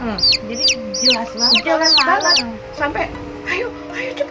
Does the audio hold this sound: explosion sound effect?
no